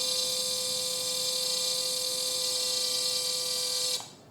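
An INGCO CIDLI205 cordless brushless drill runs at its lowest speed in gear 1, giving a steady, loud whining motor tone that holds evenly for about four seconds and then cuts off abruptly.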